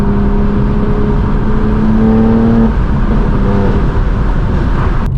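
Straight-piped BMW M4 G82 exhaust roaring loud and close, a sustained high-pitched engine note with steady harmonics that shifts pitch partway through, at a BMW M car meet.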